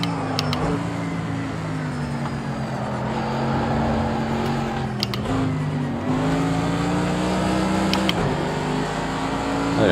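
A race car in Project Cars 2 accelerates hard, its engine note climbing steadily with brief dips at gear changes, loud and continuous with no talk.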